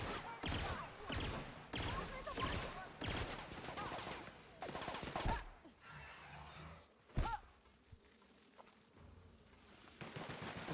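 Pistol fire in The Outer Worlds, a string of sharp, loud reports in quick bursts over the first five seconds, then a single isolated crack around seven seconds amid quieter game ambience.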